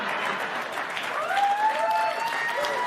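A live audience claps and cheers loudly at a comedy news show, the applause steady and swelling slightly toward the middle, with faint whistles rising above the crowd.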